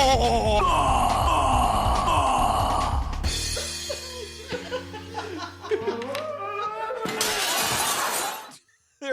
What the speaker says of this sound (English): There we go, an extra breaking glass for good measure.